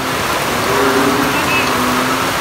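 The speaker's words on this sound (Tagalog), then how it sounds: "Kapag ito yung malakas talaga ng ulan, hanggang gabi pa to" Heavy rain pours steadily during a flood, a dense continuous hiss with a low rumble beneath, loud and unbroken throughout with no clear voices.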